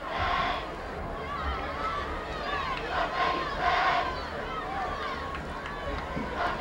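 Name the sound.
high school football crowd cheering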